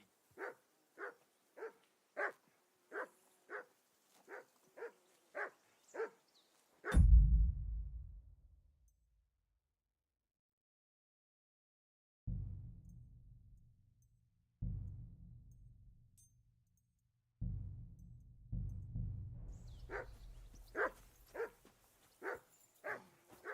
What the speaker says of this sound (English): Stop bothering me, Mutt.